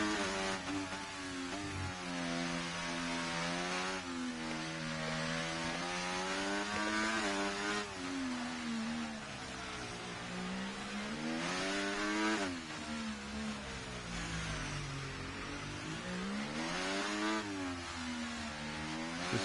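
Formula 1 car engine in F1 24 at the Monaco circuit, screaming steadily at high revs with repeated rises and dips in pitch through gear shifts and corners, loud and close, with no talk.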